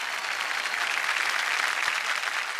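A studio audience on a Marathi TV game show claps steadily, a dense, even burst of applause with no pause.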